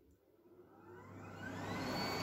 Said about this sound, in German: Staubsauger an.